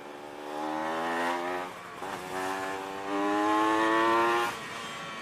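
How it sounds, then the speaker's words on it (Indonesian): A motorcycle with a big-bore aftermarket exhaust, its throttle closed and then opened again in stop-and-go riding, giving several rising revving pulls with brief dips between them, loud and close. "Tutup gas, terus tambah gas, ini ngoboknya parah banget."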